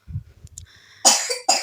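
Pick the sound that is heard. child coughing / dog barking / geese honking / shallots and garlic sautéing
child coughing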